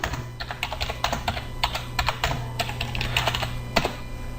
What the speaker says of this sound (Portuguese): vamos digitar alguns valores aqui